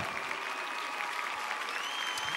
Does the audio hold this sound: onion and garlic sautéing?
no